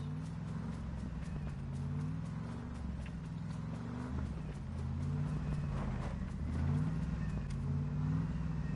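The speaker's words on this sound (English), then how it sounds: "Someone's behind us. There's a car." A car engine drones steadily while driving in PUBG, a low continuous rumble with slight rises in pitch, moderately close and alone without talk.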